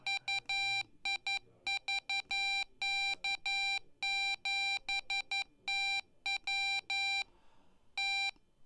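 Morse code keyer sidetone played through a speaker, a steady pure beep tone keyed into short dots and longer dashes in an irregular on-off rhythm, fairly quiet and alone.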